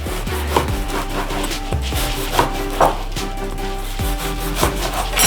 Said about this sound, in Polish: bierzemy sobie bułeczkę i kroimy je tak na 4-5 części